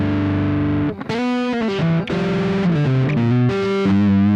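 Heavily distorted electric guitar plays a sequence of sustained chords and notes, with a thick, saturated, fuzzy amplifier tone and no talking.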